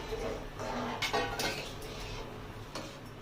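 A lentil bowl being rinsed with warm water in a home kitchen, with light clinks and knocks of a bowl and utensils amid running and splashing water, moderately close.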